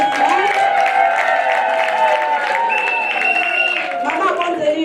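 An audience claps steadily and densely at a women's month closing ceremony at ONAPAC, with voices and sustained tones carrying over the applause the whole time.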